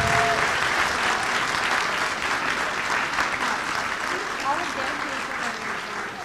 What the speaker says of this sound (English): how about one more big round of applause for our band, orchestra, everybody played tonight